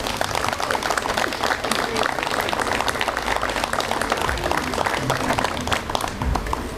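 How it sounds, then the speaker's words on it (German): At a 50th-anniversary celebration of the Freie Wähler Korbach, a room full of people applauds steadily, dense clapping that stays loud throughout with some murmuring voices underneath. "um einen kräftigen Applaus"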